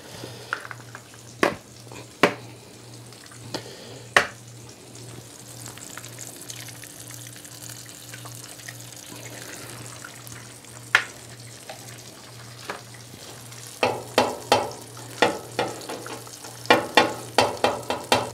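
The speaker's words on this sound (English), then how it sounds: "I'm going to crack my egg, put it right there in the egg ring where it's not on the hot side" A cracked egg frying in an egg ring on a cooler part of a griddle next to toasting bagels gives a soft, steady sizzle, broken by sharp clicks and taps that cluster toward the end, close and without talk.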